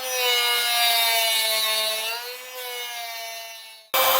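Drill Doctor sharpener grinding a drill bit, a steady high-pitched whirring grind with strong harmonics that slowly fades as the bit is pushed in, then cuts off abruptly and restarts briefly at the end.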